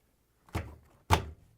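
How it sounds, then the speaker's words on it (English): A Whirlpool/KitchenAid/Maytag appliance door being closed after a door seal replacement, giving two soft, close thuds about half a second apart in a quiet room. "Now we can close the door"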